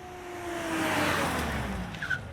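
A car starts up and pulls away, its engine rising in a smooth drone that swells and then eases off, with a brief tire squeal near the end and no voices.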